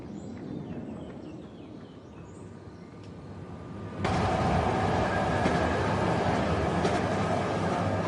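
RER commuter train running through a tunnel beneath central Paris, a steady rumbling roar that jumps suddenly louder halfway through and stays loud and close, with no voices.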